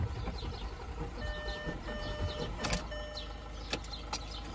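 An Audi Q7 on a weak battery cranks without catching, a faint, rhythmic mechanical churning close by, with a few sharp clicks and whirring tones over a low background hum.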